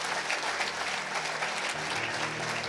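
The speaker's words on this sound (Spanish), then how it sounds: "den un fuerte aplauso a los pastores." A church congregation applauding its pastors, continuous crowd clapping held at an even, moderate level over a low background hum.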